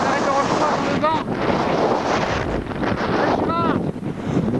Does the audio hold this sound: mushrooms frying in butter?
no